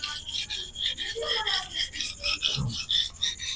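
A Victorinox knife is stroked back and forth on a coarse King 300 grit whetstone, making rhythmic, close, gritty rasping strokes at an even pace, with a brief low knock partway through.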